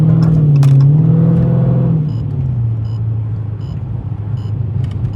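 A straight-piped 2020 Dodge Charger Scat Pack roars loud and close, its deep exhaust note rising and falling through a couple of revs before settling into a heavy, burbling idle.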